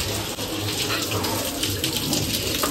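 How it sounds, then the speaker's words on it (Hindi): Steady, close splashing of water pouring from a tap in a Mumbai slum, continuous and fairly loud throughout. "लगता है इधर पानी अभी आया है।"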